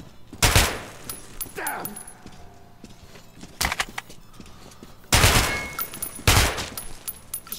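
Gunfire in the shooter game Metro Last Light on Ranger mode comes in several loud, sharp bursts spaced a second or more apart, with quieter clatter between them and a brief muttered exclamation.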